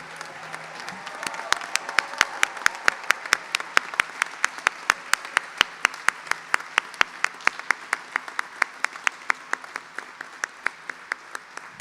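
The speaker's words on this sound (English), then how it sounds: "let's have a round of applause for the entire class" Crowd applause at a medical school commencement, settling into a strong, steady rhythmic unison clap with sharp regular beats over a bed of scattered clapping, sustained and fairly near.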